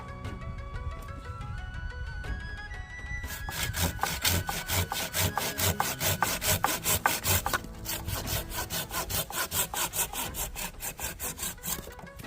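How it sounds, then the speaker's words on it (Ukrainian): A Samurai hand saw cuts through wood in steady, fast back-and-forth strokes, loud and close, with a rhythmic rasping that quickens partway through. "Як бачите, ось ця пилочка набагато краще ріже."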